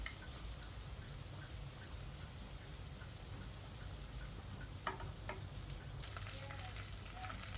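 Shallots sautéing in oil for a rasam, a steady soft sizzle throughout, with a few brief stirring scrapes near the middle and end.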